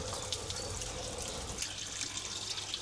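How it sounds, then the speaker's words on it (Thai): Water spraying from a leaking pipe on a household water pump during a DIY pump relocation, a steady hissing rush that fills the clip and stays close and continuous throughout. "น้ำพุ่งจริงนะครับ เช็คก่อนว่ามันรั่วหรือเปล่า"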